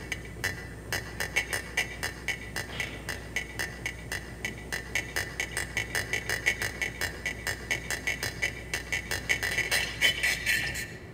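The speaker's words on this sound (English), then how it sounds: "That is the sound of a mad spiny lobster saying" A spiny lobster held in the hand gives off a steady train of rasping pulses, about three per second, which build slightly louder toward the end over a constant low background hum.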